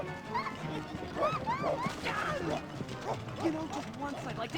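Bruiser the dog in a SpongeBob SquarePants: Battle for Bikini Bottom game scene, yipping and barking in short bursts mixed with game sound effects, under cartoon character dialogue.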